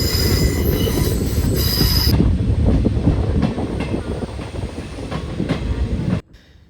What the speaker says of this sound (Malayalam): ഇവിടുന്ന് വീണ്ടും ട്രെയിൻ മുന്നോട്ട് തന്നെ കേട്ടോ